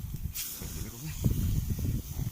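Chicken in a yogurt coating chars on a barbecue with a soft hiss and sizzle, partly under a voice talking nearby.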